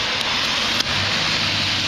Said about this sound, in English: I don't want to get my smartphone out until it stops raining